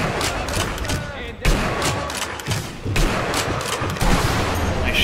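Gunfire in the video game Sniper Elite V2, a dense, loud stream of shots and booms with several heavier thumps throughout.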